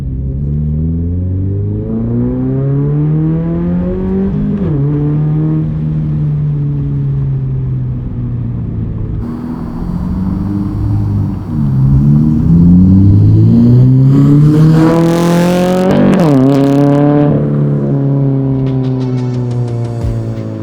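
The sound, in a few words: Subaru BRZ with aftermarket exhaust accelerating hard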